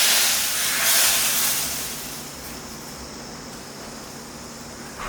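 Hot tempering hits a boiling fish curry, meen kulambu, with a loud, close sizzling hiss that swells at first, then gradually settles into a softer, steady fizz.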